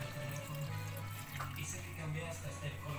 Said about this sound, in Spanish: ahora le echamos medio litrito de agua